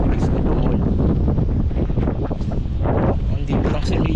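Strong wind buffets the microphone outdoors at an open, quiet spot in Vermosa, Daang Hari, Imus, Cavite, a constant loud rumbling roar filling the whole stretch with gusty swells and no let-up.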